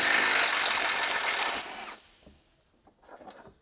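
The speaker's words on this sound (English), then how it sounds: "Using the large 18mm short socket with the large electric impact wrench, remove the front and rear bushing retaining bolts from the lower control arm." A large electric impact wrench with an 18mm socket runs loudly for about two seconds, removing lower control arm bushing bolts on a Ford Focus ST, then stops, followed by faint knocks and handling.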